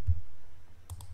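Computer mouse clicks in a quiet room, a soft click at the start and a quick pair of sharp clicks near the end, with no speech.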